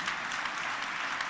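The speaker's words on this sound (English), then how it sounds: "Could you give them a round of applause" Dense, steady applause from a large audience for panelists at a Katiba Day commemoration in the Kenyatta International Convention Centre, Nairobi, a continuous even wash of many hands filling the hall without pause.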